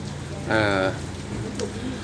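Morning rain falling over a monument plaza in Non Sung, Thailand, a steady even hiss throughout, briefly overlaid by a voice speaking in the middle.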